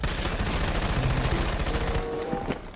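Rapid bursts of automatic gunfire in the tactical shooter Rainbow Six Siege, loud and continuous for about two seconds, then tapering into scattered shots and in-game noise.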